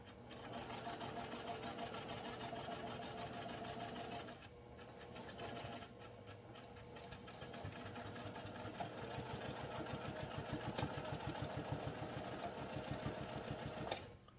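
A sewing machine runs steadily while back stitching twice to reinforce the turning hole of a postpartum padsicle, a loud continuous mechanical whir with brief pauses around four and six seconds.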